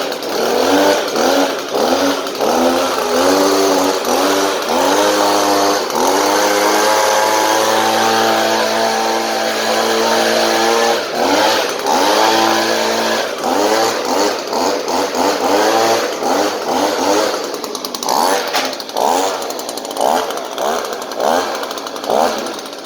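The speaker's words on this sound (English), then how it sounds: "show you guys the Stihl BG50 run" A Stihl BG50 handheld gas leaf blower runs loud and close, its small two-stroke engine droning steadily and rising and falling through repeated throttle changes, with no voices.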